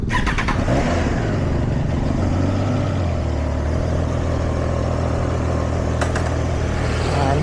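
A stock-exhaust Triumph Trident 660 motorcycle cold-starts, then settles into a steady, fairly loud idle that holds without pause.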